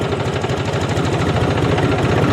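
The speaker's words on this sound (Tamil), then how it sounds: "நான் டிராக்டர் விடுறேன் பாருங்க" A tractor engine runs steadily and close by, a loud low rhythmic diesel chug and rattle held at an even pace throughout with no talk over it.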